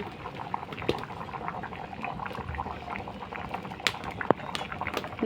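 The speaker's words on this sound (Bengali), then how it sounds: "ঝোলটা ভালোভাবে ফুটে উঠেছে" Tilapia fish curry gravy with potato and ridge gourd boils in a pot, a steady low bubbling with small irregular pops and gurgles, fairly quiet and close, with no voices.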